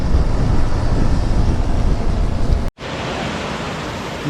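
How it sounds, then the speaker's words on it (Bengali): Fast-flowing river water rushing loudly in a steady broadband roar, with one brief dropout near the end and no voices. "জল কি ফাস্ট দেখো জলের অবস্থা"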